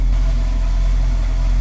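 A 1966 Ford Mustang Fastback 2+2 with a 289 V8 idles close by, a steady low rumble with an even, unbroken throb and no voices.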